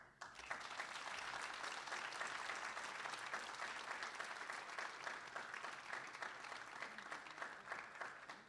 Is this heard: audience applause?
yes